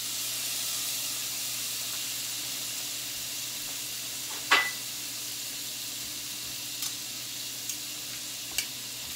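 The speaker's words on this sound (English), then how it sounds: "And then I'm going to saute the shrimp that has been seasoned in the citrus seasoning that I use." Seasoned shrimp in citrus seasoning sauté in plant-based butter and pecan oil, giving a steady, even sizzle throughout, with a few brief utensil clicks and one sharper clack partway through.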